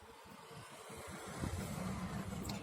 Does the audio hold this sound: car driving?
yes